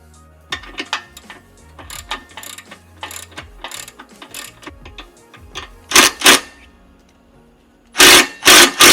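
Ratchet wrench clicking in quick bursts while loosening the front bumper bolts on a Jeep JK, close and loud, with heavier metallic clunks near the end as the bolts come free.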